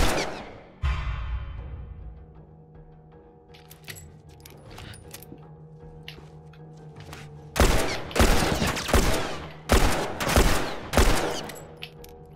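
A low hum lingers, then a run of five or six sharp, loud gunshots cracks out in a steady rhythm, in the video game The Last of Us Remastered.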